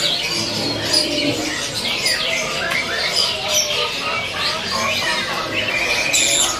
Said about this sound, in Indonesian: Ini ada kutilang